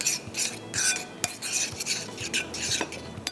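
Metal spoon stirring and scraping through a cold sandwich filling seasoned with black pepper in a bowl, a close run of repeated clinks and rasping scrapes with no talk.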